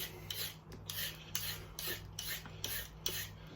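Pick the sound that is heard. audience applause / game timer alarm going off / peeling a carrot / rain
peeling a carrot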